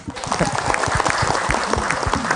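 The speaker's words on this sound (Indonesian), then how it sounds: "Boleh tepuk tangan?" A studio audience at an Islamic religious talk show claps together in a brisk, continuous burst, close and fairly loud, with a few voices mixed in beneath the clapping.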